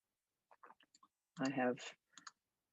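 Several light plastic clicks as buttons are pressed on a TI-84 graphing calculator, scattered taps spaced out, with a short burst of talking in the middle.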